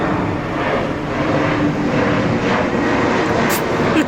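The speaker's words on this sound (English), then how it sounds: "the plane that is going overhead" Passenger airplane flying low overhead near the airport outside a craft brewery in South Florida, a steady loud roar of jet engine noise that lasts throughout, with no talking.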